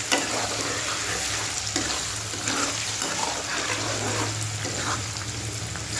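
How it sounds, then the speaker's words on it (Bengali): Chopped onion fries in hot oil in a pan, giving a steady, close, continuous sizzle and crackle with no voices. "দেখো বাদামি বাদামি কালারে পেঁয়াজটা ভাজা হয়েছে।"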